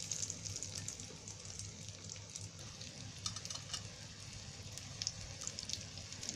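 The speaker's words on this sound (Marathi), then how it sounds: "तेल तापलेलं आहे, त्याच्यामध्ये आता याचे सोडते." Breaded chicken keema cutlets fry in hot oil, a faint, steady sizzle with scattered soft pops and crackles throughout, close by and without talk.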